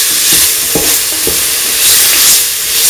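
A mint, onion, fennel and coriander mixture is stirred into a sizzling kidney bean stew. Several soft spoon scrapes and knocks sit under a constant close frying hiss.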